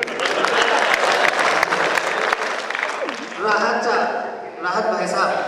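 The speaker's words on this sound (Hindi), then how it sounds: "ताली बजाइए" A large audience at an international kavi sammelan and mushayara poetry gathering applauds in a dense, sustained burst of clapping that thins toward the end, with a voice speaking over it.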